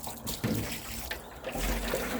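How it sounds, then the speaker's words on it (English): Water trickles and splashes softly onto worm farm bedding, a faint, close pour with uneven gurgles and a slightly heavier stream near the end. "Add some water."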